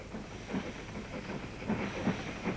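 Special trains arrive on a railway line, heard as a faint, steady rumble with soft hiss and a few low clanks, continuous and somewhat distant with no voices.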